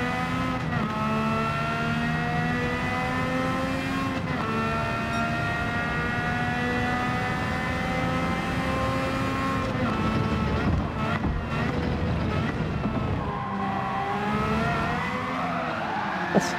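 Race car engine in Gran Turismo 7 running on sports soft tyres without traction control, a loud steady high-pitched whine with rising and falling gear-shift sweeps and brief tyre scrub, constant throughout.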